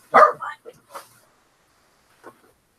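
A dog gives a few sharp, close barks in quick succession, then falls silent before one fainter, lone bark a moment later.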